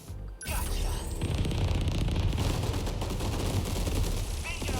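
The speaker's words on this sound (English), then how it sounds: "let's just go with the point lock missiles" A volley of point lock missiles fires in the 13 Sentinels: Aegis Rim game, a dense, loud stream of rapid launches and whooshing bursts over a heavy low rumble, running almost continuously after a brief opening.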